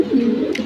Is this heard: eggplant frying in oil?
no